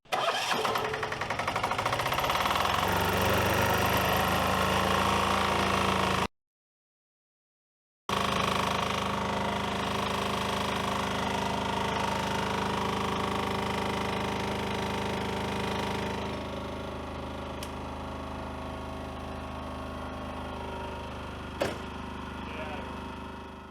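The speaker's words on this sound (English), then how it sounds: "The new generator fired up instantly and more important, no clouds of white smoke." A Cummins Onan QD 3200 diesel generator in a 2022 Renegade Vienna RV cranks and fires up, then settles into a loud steady running drone that eases slightly and continues alone.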